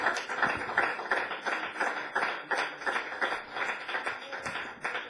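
Worshippers at a Pentecostal church clap together in a fairly quick, uneven rhythm, a moderate and slightly distant patter of hands that continues steadily throughout with no speech over it.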